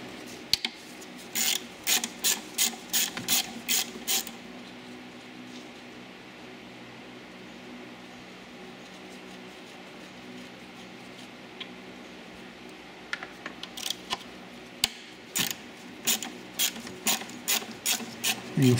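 Ratchet wrench removing bolts on the 3.6 V6 engine of a Dodge Grand Caravan, bursts of rapid clicking at the start and again toward the end, separated by a long quiet stretch of faint background hum.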